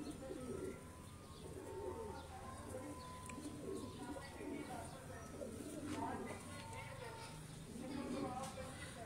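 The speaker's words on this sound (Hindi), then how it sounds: "कबूतर ही सारे मियाँ साहब के हैं जी।" Fancy pigeons cooing in a loft, soft repeated throaty coos and occasional wing flutters close by, running under someone talking.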